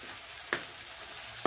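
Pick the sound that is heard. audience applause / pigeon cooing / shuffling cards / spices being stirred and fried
spices being stirred and fried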